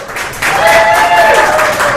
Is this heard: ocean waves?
no